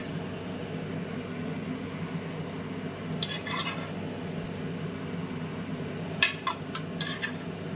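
Paneer cubes cook in a pan for shahi paneer. A low, steady sizzle carries throughout, with a few brief bursts of spoon-on-pan clatter. No one talks.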